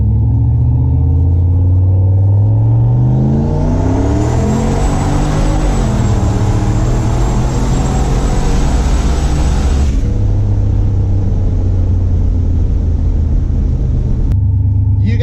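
A turbocharged LS-swapped Chevrolet C10 at 12 psi pulls hard in a first-gear roll-on, loud rising engine roar and turbo whine building for several seconds before the throttle lifts and the engine drops back to a rumbling idle.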